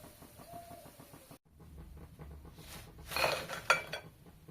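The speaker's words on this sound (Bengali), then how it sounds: "একটা প্লেটে তুলে নিচ্ছি।" Fried mini khaja are lifted from hot oil onto a plate, with a quiet background hum, then a few close clinks and scrapes of a utensil against metal near the end.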